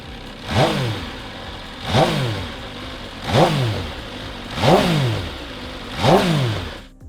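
A motorcycle engine revs five times in a steady rhythm, each burst rising sharply in pitch then falling back to idle, loud and close.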